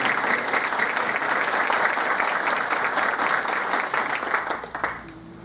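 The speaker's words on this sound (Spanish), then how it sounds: "Pide un aplauso para ella." Audience applause for the Tlalpan prosecutor at a justice and gender forum, a dense and loud burst of clapping from a sizeable crowd that holds steady, then fades out near the end.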